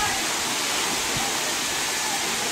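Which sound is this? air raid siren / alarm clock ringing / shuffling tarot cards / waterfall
waterfall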